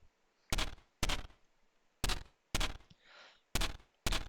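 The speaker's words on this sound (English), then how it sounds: "all of the basic turret gunshots don't overlap, and all of the cannon shell sound effects do not overlap" Basic turret guns in the Neon Defense video game fire six sharp, punchy synthetic shots in an uneven rhythm, each burst loud and isolated, with brief quiet gaps between them.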